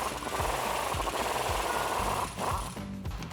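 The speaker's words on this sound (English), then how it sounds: "Gonna get an air ratchet." An air ratchet spins off the ball joint nut on a Jeep Wrangler JK, a loud, rapid buzzing rattle in bursts with short pauses between them.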